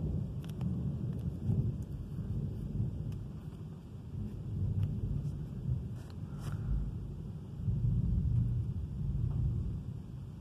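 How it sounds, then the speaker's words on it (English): Thunder from a large storm moving up the south coast of the United Kingdom rolls as a continuous low rumble, with a steady wash of rain or wind underneath and no clear single cracks. "The storm is literally rumbling up from the south coast."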